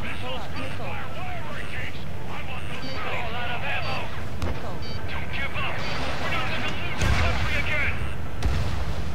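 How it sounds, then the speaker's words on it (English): Rapid gunfire and explosive bursts from a jet combat mission in Ace Combat 7, a dense continuous barrage with heavy low booms near the end, mixed with radio chatter and engine roar. "They already are firing on us."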